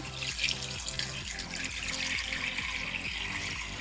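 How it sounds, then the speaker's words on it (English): Water poured into a cooking pot over catfish for pepper soup, a steady close splashing and gurgling stream that continues throughout, alone. "So now I just need to add some water"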